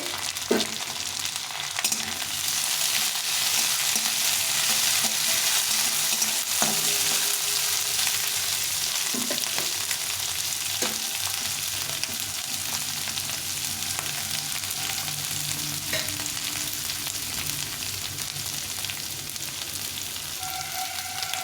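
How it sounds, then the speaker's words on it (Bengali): Green beans fry over low heat in a pan with a steady, close sizzle, broken by occasional knocks and scrapes of stirring, lasting throughout with no voices. "এখন আমি এই বিনসটা দিয়ে দেব এগুলো একটু ভেজে নেব"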